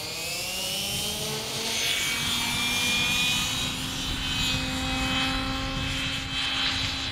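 Engine of a radio-controlled aerobatic model airplane flying a spin manoeuvre at a 3D aerobatics competition, a steady loud propeller drone with slowly shifting pitch as it rotates, heard alone with no talk.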